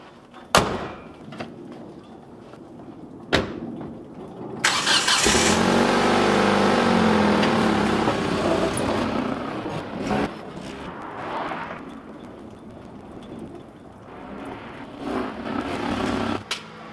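A 2001–2004 Hyundai Elantra on a test drive after a power steering pump replacement: sharp door thumps, then the engine starting and running with a steady drone that rises and falls as the car moves.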